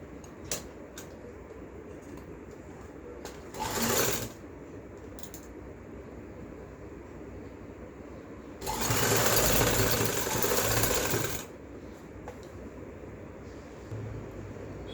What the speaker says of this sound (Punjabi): ਇਸ ਤਰ੍ਹਾਂ ਲੈਸ ਰੱਖ ਕੇ ਆਪਾਂ ਨੇ ਸਿਲਾਈ ਲਾਈ ਜਾਣੀ ਨਾਲ ਨਾਲ